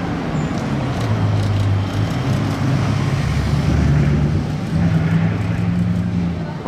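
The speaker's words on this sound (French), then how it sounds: "La Bugatti Chiron de location qui dépose quelqu'un là-haut et qui va peut-être passer devant nous" A rented Bugatti Chiron in Monaco roars close by, its loud engine holding a strong, steady drone that swells slightly as it accelerates past, with no talk over it.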